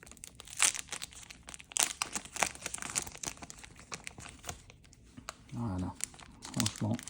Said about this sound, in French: on va voir si les paquets de cartes sont plus faciles à ouvrir que ceux de Magic